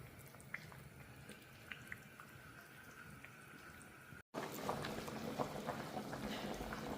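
A pot of stew bubbling and simmering steadily at close range, soft popping bursts over a low liquid rumble, briefly cutting out before resuming louder.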